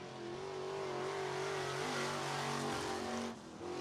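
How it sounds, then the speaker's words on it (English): IMCA Sportmod race car running a qualifying lap on a dirt track, its engine droning loud and steady with a rising, sustained roar before easing off briefly near the end. "Next car to hit the track will be the 24 Junior"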